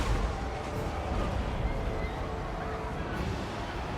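Artillery firing in the Total War: Warhammer video game: dense, rumbling booms and blasts layered over constant battle noise, loud and continuous, with a voice partly underneath.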